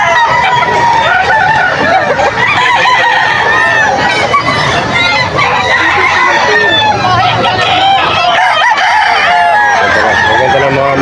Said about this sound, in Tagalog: Ito, ang daming manok.